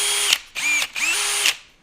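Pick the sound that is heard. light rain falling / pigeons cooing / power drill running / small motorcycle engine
power drill running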